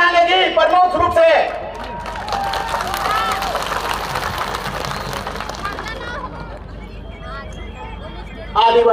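A large crowd at an Adivasi political rally cheers, claps and shouts in loud bursts, with a steady murmur of crowd noise between them and a fresh roar at the end. Voices carry through the noise.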